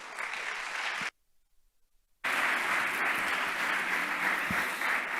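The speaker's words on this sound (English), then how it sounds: "let's give a round of applause to all the speakers in the session also" An audience at a deep learning symposium in Barcelona applauds the session's speakers with loud, sustained clapping. The applause breaks off into near silence for about a second, then resumes just as strong.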